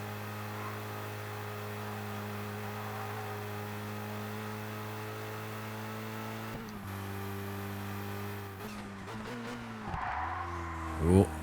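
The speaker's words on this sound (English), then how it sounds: "just locking the brakes a little bit there," A race car's engine drones steadily in ToCA Race Driver 2, then drops and shifts pitch as the brakes lock. A short, sharp tire squeal rises near the end, loud over the engine, and commentary runs faintly underneath.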